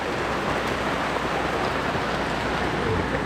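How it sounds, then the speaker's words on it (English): Heavy rain pours down steadily during a storm at Unicoi Lake, a dense, continuous hiss with no pauses, loud and close, with no talking. "It's raining."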